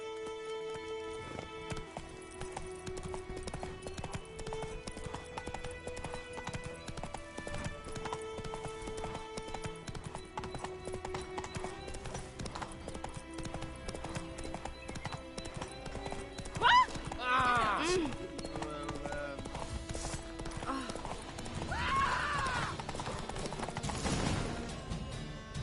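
A horse gallops in The Witcher 3: Wild Hunt, its hooves striking in a fast, steady clip-clop rhythm over game music, with a whinny and voices breaking in toward the end.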